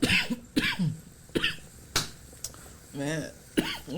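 A few sharp, separate coughs break out at close range, with a throat being cleared in between and breathy pauses.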